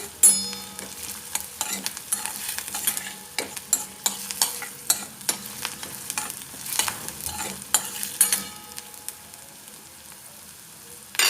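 Onions frying in a pan as chopped ginger, green chilli and garlic are added, with steady sizzling and repeated scraping stirs close by, no voices.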